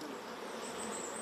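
Honey bees swarm inside a hive box holding tens of thousands of them, producing a close, continuous droning buzz with no voices over it.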